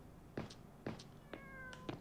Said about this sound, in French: Oh, il est où le petit chat?